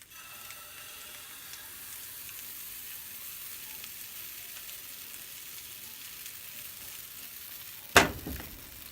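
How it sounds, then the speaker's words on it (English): Blueberry pancake batter sizzles in a hot pan on a gas burner at medium heat, a steady close crackling hiss that ends in a sudden louder clatter. "That's the sound that it should make hitting the pan."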